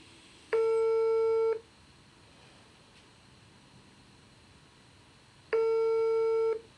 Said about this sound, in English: So I'm ringing the second person now